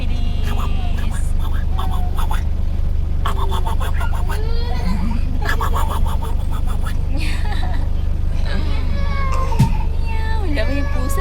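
A cat meows and caterwauls repeatedly in varied, drawn-out calls over a steady low engine-like hum, with faint whispery voices in the background.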